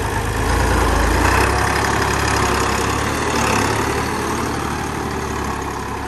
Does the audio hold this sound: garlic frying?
no